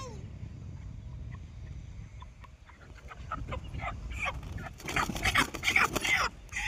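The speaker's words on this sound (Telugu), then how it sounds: "కొట్టుకుంటుంది కోడి, టికి టికి టికి టికి టికి టికి" A hen being carried to a roadside shrine during an offering in the rain clucks and flaps its wings, and the flurry grows louder and more agitated toward the end while people talk nearby.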